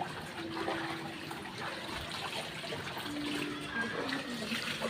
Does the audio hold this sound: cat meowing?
no